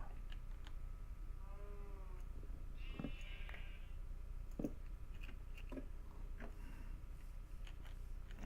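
Sheep bleat in the Minecraft Direwolf20 modpack, a few short wavering calls in the middle of the stretch over a steady low hum with scattered small clicks, no talking.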